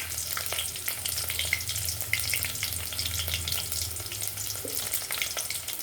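Onion pieces and green chillies fry in hot oil with a continuous, dense crackle and spitting sizzle close by, steady throughout with no voices.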